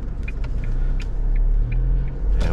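An Isuzu D-MAX ute on a road test drive in Drive, building toward 50 km/h: a steady, close engine and road rumble heard from inside the cab, with faint ticking clicks over the top.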